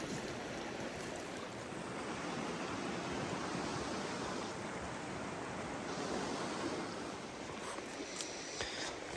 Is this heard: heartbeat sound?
no